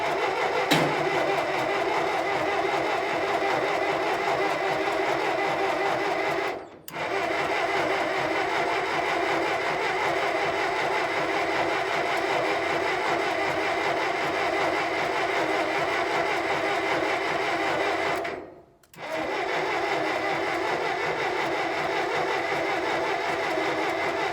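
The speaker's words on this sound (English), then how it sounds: "I finally got some spark to the spark plug and it bumped" A Massey Ferguson tractor engine running through its first start after restoration, a loud, steady mid-pitched engine drone that cuts out briefly twice before picking up again.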